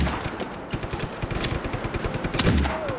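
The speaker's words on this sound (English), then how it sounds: "Who is shooting at me?" Gunfire in the open-world action game Just Cause 3, rapid bursts of automatic shots in a loud, dense fusillade that continues without pause, with a brief whistling sound near the end.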